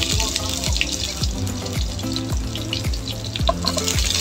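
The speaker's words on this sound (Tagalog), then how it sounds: "Pagkainit ani, lagay na natin ang bawang." Garlic sizzles in hot oil in a home kitchen for a Filipino misua dish with sardines and egg. The steady, close crackle runs throughout, with clinks and light water sounds mixed in and a tonal hum in the background.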